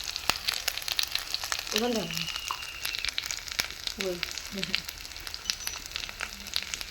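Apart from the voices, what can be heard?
chicken masala frying in oil while being stirred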